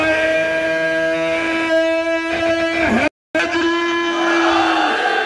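Crowd at a religious gathering chanting a slogan in unison in response to a call, loud sustained massed voices with a short break midway before the chant resumes.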